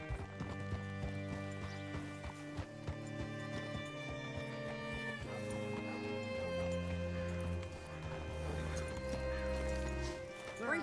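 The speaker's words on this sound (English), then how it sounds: "Hitch your horse up here." Horse hooves clip-clop in Red Dead Redemption 2, a steady rhythmic run of sharp hoofbeats with occasional snorts, set under a continuous layered musical score and some low voices throughout.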